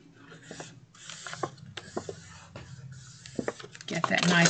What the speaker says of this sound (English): Get that nice little crease going. And burnish.